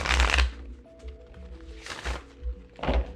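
Thin oracle cards are shuffled in three quick riffling bursts, close and crisp, with soft papery sounds and faint background tones between them.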